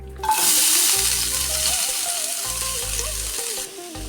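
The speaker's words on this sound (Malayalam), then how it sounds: "നന്നായിട്ട് ഇളക്കി കൊടുക്കാം" Beans thoran fries in hot coconut oil with a loud, bright hiss and sizzle, broken by occasional stirring, while a low, faint hum runs underneath.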